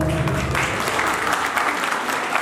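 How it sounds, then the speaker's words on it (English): An audience at a book launch claps in a dense, steady burst of applause that fills the room evenly from start to finish. "big round of applause"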